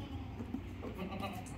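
Goats bleating on a Hyderabadi goat farm that keeps male and female kids, heard as steady, moderately close animal cries over a continuous background.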